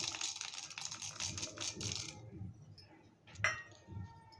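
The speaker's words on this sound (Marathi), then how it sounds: "आता मी त्यात शेंगदाणे टाकून घेते" Peanuts are tipped into a mortar (khalbatta) for a fasting soup: a quiet run of light rattling clicks, a short lull, then one sharp clink.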